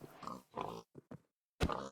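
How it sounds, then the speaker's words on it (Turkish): Pigs in Minecraft give several short oinks and grunts in quick succession, close and moderately loud, separated by brief silences. "Domuzcuklar."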